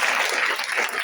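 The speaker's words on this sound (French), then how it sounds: "j'aimerais qu'on commence cette soirée par faire un tonnerre d'applaudissements pour Max" An evening audience applauds Max at an RSB alumni innovation event: dense, steady clapping from many hands, fairly close and unbroken throughout, with no speech.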